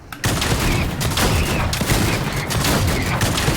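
Drum-fed pump shotgun firing in a video game, a loud, dense barrage of blasts and booms in rapid succession that fills the whole stretch almost without gaps, close and continuous.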